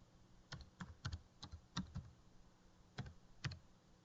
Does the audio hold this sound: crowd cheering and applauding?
no